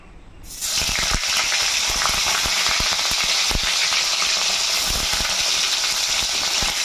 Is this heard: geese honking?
no